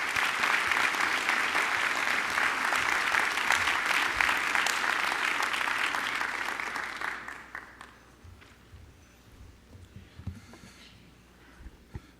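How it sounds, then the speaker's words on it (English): Dense audience applause at the Crown Forum honoring the advisors fills the hall for about seven seconds, then tapers off into a quieter room with a few scattered claps. "Please give all of these individuals a round of applause."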